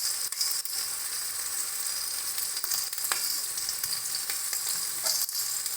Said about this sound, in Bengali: সমস্ত কিছু দিয়ে ভালো করে মশলাটাকে কষিয়ে নেব